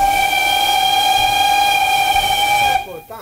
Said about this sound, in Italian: Questo è il fischio a vapore.